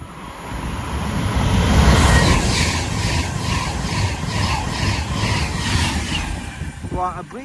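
A train passing through Acton Bridge railway station, a loud sustained rumble and rushing roar close by that swells and then slowly fades, with a brief voice near the end.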